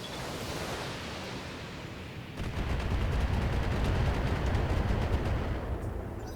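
Weapons firing in the mech combat game Battletech, a low rumble that breaks into a loud, sustained volley of rapid missile and gun bursts, with no talking.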